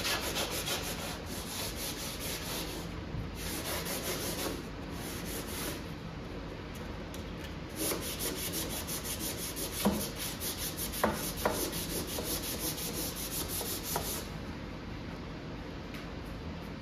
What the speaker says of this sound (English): Just gonna hit it with some sandpaper by hand.